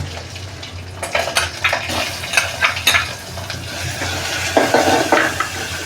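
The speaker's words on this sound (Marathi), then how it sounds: "जिरं टाकलं तर आपण कढीपत्ता टाकूया आणि लसूण टाकून घेऊ" Curry leaves and garlic crackle and sizzle in hot oil with mustard seeds and cumin for a tomato bhaji, with bursts of spattering, stirring and the clink of a utensil against the pan, close and fairly loud.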